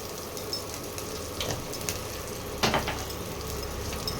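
Turmeric and salt sizzle in hot oil for a Bengali fish curry: a steady, close frying hiss with a few soft clicks and one brief scrape partway through, no talk.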